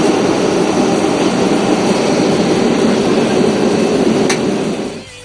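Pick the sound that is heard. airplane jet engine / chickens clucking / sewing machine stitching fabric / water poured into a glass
airplane jet engine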